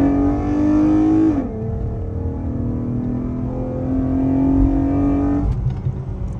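A 2021 Dodge Charger engine in sport mode, heard as a loud, close exhaust drone. The pitch climbs on a rev, drops sharply, then holds and rises again before falling off.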